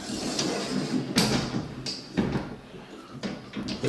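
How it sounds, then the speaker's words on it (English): A door that will not close properly is pushed and knocks several times, giving a few sharp, fairly close bumps and rattles spread over a few seconds against a quiet indoor background. "The door that doesn't seem to want to close."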